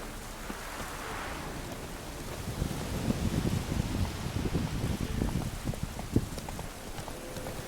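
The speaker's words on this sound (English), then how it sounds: "Caballo, ven aquí, va. Venga, caballito, míralo." Horse hooves clip-clop in The Witcher III: Wild Hunt, a steady trotting patter of soft thuds emerging after a few seconds over a hissing, rain-like ambient wash, moderately loud with no talk.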